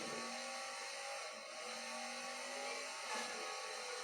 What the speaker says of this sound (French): Je sais pas qu'il y avait des véhicules dans le jeu.